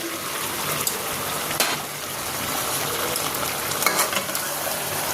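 Shol fish added to a bottle gourd curry frying in a pan, making a steady, bright sizzle with light stirring scrapes and a few small pops, no talking.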